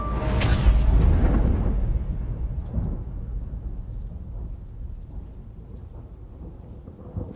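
Loud thunder crack rolling into a long low rumble that slowly fades over several seconds, used as a sound effect in a Spanish-language rap track with rain-like hiss underneath.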